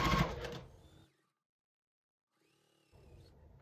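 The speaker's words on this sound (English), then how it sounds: "now I'll flip and sew this" A sewing machine stitches a sunflower quilt block with a loud, close whirring burst. It stops abruptly, stays quiet for over a second, then starts running again more softly.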